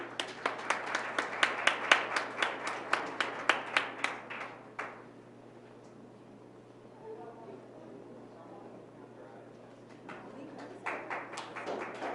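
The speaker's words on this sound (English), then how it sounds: "let's give our coaches one more round of applause" An audience at a school Black History Month knowledge bowl claps steadily and fairly close for about five seconds, fades to a quiet room, then a smaller burst of clapping returns near the end.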